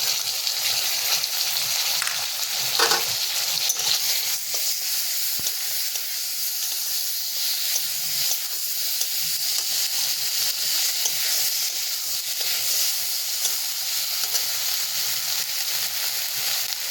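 Steady frying sizzle of ginger-garlic paste in hot oil for a Bengali curry with kochu bora, a dense continuous hiss at even loudness throughout, close and alone with no voices.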